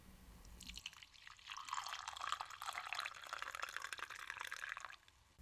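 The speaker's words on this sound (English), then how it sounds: "Can I get you a coffee? I had a dispenser installed in here a while ago." A coffee dispenser pours a cup in one steady, continuous stream that lasts about four seconds and then cuts off. The liquid sounds close and fairly soft, with no talking.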